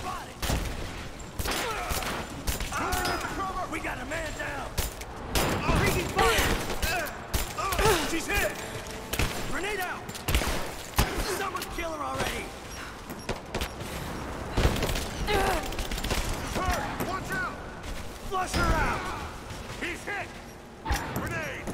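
Rapid gunfire and bullet ricochets during a firefight in Rise of the Tomb Raider, with dense repeated shots and impacts filling the scene alongside crashes and thuds, loud and continuous under occasional talking.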